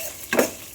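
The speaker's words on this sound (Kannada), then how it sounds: "ಇಲ್ಲಿ ಒಗ್ಗರಣೆ ಹಾಕ್ತಾ ಇದ್ದೀನಿ, ಮನೆಯೆಲ್ಲ ಘಮ ಘಮ ಅಂತ ಇದೆ." Spices for tempering crackle and sizzle briefly in hot oil in a home kitchen, a quiet short burst of frying with a faint stir, followed by another brief sizzle near the end.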